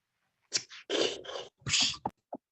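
A person imitates a soda can opening with a few short breathy hissing bursts and pops, close up, ending in a brief click.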